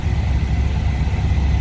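A car engine idling slightly fast, with a steady, loud, low rumble and a faint even pulse throughout, heard close up with no talking.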